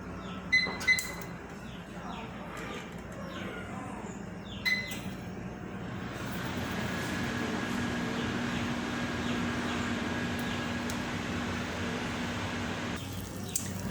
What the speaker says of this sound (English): Now I'll be putting this into the microwave for 1 minute.